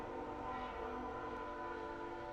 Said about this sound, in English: I hope you guys can't fucking hear that train